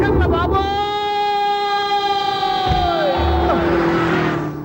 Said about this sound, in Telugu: ఆరినెట్టండి బాబు, సైరన్నే కొట్టాడు. నేను కొట్టమన్నది హారను.